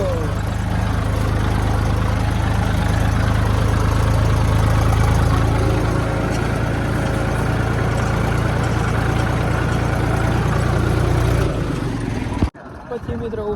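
A tractor engine idles in a farmyard courtyard with a loud, steady low rumble that runs almost unbroken, then cuts off abruptly near the end.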